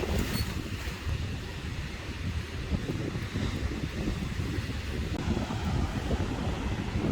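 Strong wind gusts at a beach campsite, buffeting a tent and microphone in a steady, loud rumbling roar with surf-like wash throughout, with no voices.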